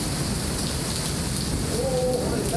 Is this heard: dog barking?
no